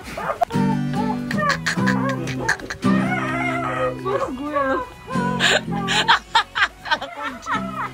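Someone imitates a chicken on a radio broadcast, with repeated clucking, squawking bursts in uneven rhythm, backed by a steady low musical tone and laughter-like voices between calls.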